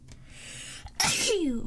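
A single sharp sneeze bursts out close to the microphone after a moment of quiet breathing, followed by a brief vocal exhale.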